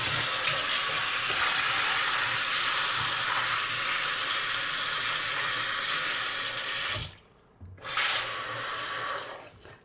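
Tap water pours steadily into a kitchen sink, a loud continuous hiss that cuts out briefly near the end and then resumes, with no talking.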